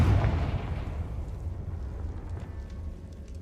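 A Confringo spell explosion in the Hogwarts Legacy video game: one deep, booming blast up close that fades into a rumbling decay lasting a few seconds.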